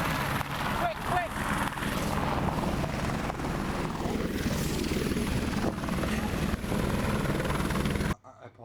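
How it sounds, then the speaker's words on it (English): Helicopter rotor and engine noise, loud and steady throughout as it flies close overhead, with voices shouting underneath before the sound cuts off abruptly near the end. "get to the chopper!"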